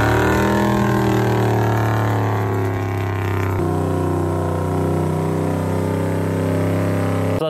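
Engine of a 500 hp 1968 Chevy C10 pickup on Falcon tires running at a high, steady rev with a strong droning hum. Midway it drops abruptly to a lower, steady pitch, loud and close.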